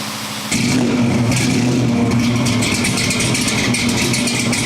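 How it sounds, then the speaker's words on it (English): An engine on a Q 1050 cold-starts with a sudden catch after a brief quiet moment, then settles into a loud, steady, even idle, close by and with no talk. "There's nothing quite like the feeling you get from a successful cold start, and this one seems to have gone well"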